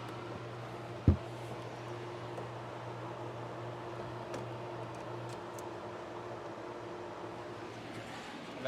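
An A/C vacuum pump drones steadily while evacuating a car's air conditioning system, which has a leaking condenser. The hum is constant and even, with one sharp click near the start and no talking.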